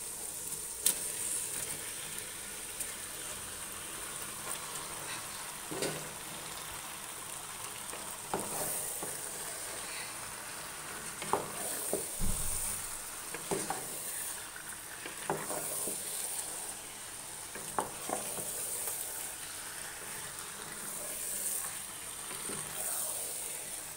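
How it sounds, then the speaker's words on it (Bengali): Four kilograms of meat fry in a large pot, giving a continuous sizzle with occasional louder scraping and stirring knocks spaced every few seconds, all with no voices. "তো 4 কেজি মাংস আমি রান্না করতেছি।"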